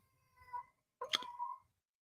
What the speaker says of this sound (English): The cat meowing,